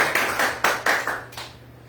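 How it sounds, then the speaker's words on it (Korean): Congregation applauding during a Sunday worship service, several bursts of hand clapping in quick succession that taper off over two seconds, with no talk. "하나님께 영광의 박수를 올려드리겠습니다"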